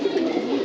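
A pet pigeon gives a single short, soft coo, heard close and alone.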